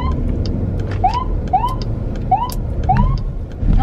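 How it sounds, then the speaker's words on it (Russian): Ambulance siren on a highway near King of Prussia, Pennsylvania, heard from inside a car in traffic; repeated rising wails about every half second apart, fairly close, over road and engine rumble. "А, это скорая, скорая."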